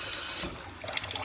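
Water running from a tap to fill a bath for washing a cat, a steady close splashing rush with a few brief spatters near the end.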